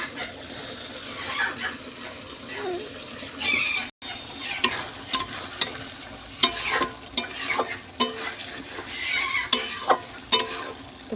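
Pigeon meat is stirred in hot oil in a pan as it is browned, with a steady sizzle broken by repeated sharp scrapes and clacks of the spoon, close and fairly loud, with no voices.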